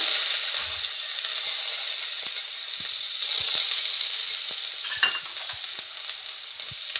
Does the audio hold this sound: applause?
no